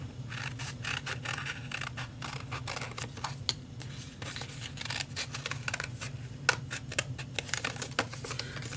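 Scissors snip a paper word out for a scrapbook layout, a quiet, close series of irregular cuts and rustles over a low background hum, with no speech.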